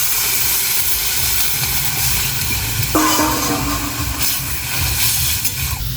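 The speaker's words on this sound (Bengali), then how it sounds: "কষানো হয়ে গেছে, এখন জল দিয়ে দেবো।" Water poured into a pan of sautéed onions for a Bengali fish curry sends up a loud, steady hiss of steam that keeps sizzling close by.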